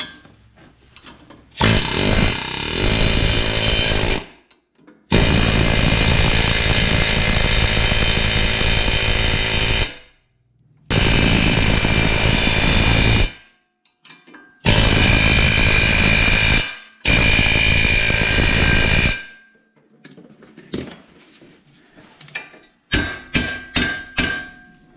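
An impact wrench hammers loudly on a Ford Fiesta wheel hub in several bursts of a few seconds each, ending with a quick series of sharp rattling hits.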